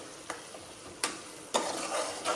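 A dish cooking on low gas being stirred, a few soft scraping strokes spaced about half a second apart over a faint sizzle.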